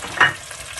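Tomatoes cooking in a pan with salt, chili, turmeric and dried coriander, giving a steady sizzle with one brief stirring scrape near the start, close and fairly loud, with no speech.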